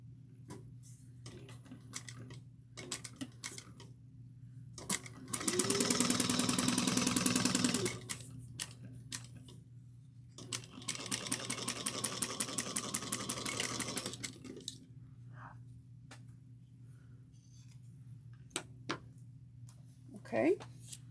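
A sewing machine stitches tote bag pieces at a 3/8 inch seam in two steady whirring runs of two to three seconds each, close up, with quieter handling clicks and taps between them.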